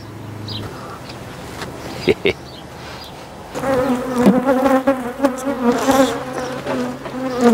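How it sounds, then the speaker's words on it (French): Honeybees drone at a brood comb holding the queen, a low steady buzz that swells into a louder, dense humming swarm midway, close up, with a couple of sharp knocks early on. "ça c'est la réserve de couvain d'abeilles avec la reine"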